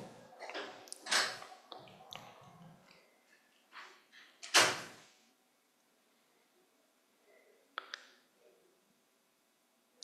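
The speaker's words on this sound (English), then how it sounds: "When you hear the door close just now, you know that's the door closing." Door closing indoors during a quiet talk, heard as a sharp, loud thud near the middle, with a few fainter knocks and rustles before it and a light tap later, then near silence.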